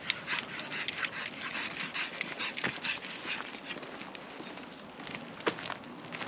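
A dog moving about on a narrowboat trip along the Ashby Canal, with soft panting, paw steps and small whimpers close by, heard alone in quiet surroundings.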